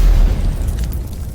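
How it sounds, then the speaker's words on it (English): A fire flashover in a casino room lets off a loud, deep boom that rolls into a low, rumbling roar and slowly fades. No one is talking. "The explosion from the flashover blasted off the doors to the casino entirely"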